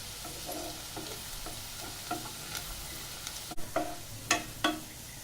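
Browned onions sizzle in ghee in a pan as a spoon stirs them, a steady soft frying hiss broken by a few close scraping knocks near the end.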